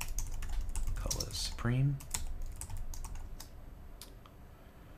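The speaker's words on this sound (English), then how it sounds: "I'm going to hit the comma on my keyboard and go to the next line." Rapid clicking keystrokes on a computer keyboard while writing code, close and crisp, with a short spoken word early on and irregular taps continuing afterward.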